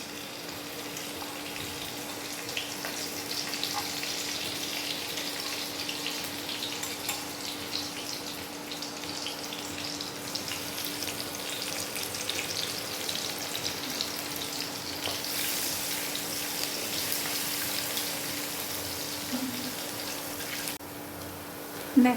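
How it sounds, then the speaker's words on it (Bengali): Chopped onion and garlic fry in oil with a soft, continuous sizzle that stays even throughout, faint, over a constant low hum and no speech. "এবার আমি অল্প করে একটু পেঁয়াজ রসুন কুচি দিয়ে দিচ্ছি"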